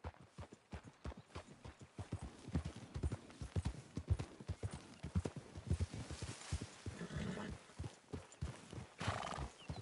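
Horses in the Red Dead Redemption 2 game walk with steady, close hoof clip-clops on the ground, one whinnying near the end, while a faint voice murmurs underneath.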